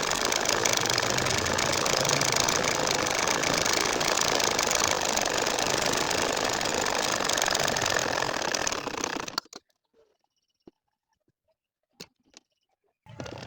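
A sewing machine stitches a nakshi kantha baby quilt with a steady, rapid mechanical chatter for about nine seconds, then stops abruptly, leaving near silence broken by a few small clicks.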